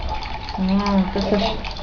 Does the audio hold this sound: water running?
yes